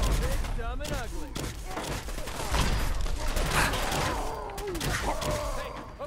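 Gunfire from a gun in Fallout 4, several sharp shots in bursts over game noise and effects, with someone talking over much of it.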